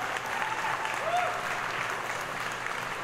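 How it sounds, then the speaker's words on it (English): An audience at the Atlantic City Food and Wine Festival applauds steadily as a dense, even wash of clapping that continues without pause, with faint voices mixed underneath. "big round of applause for all the guys and girls in the back cooking this food up"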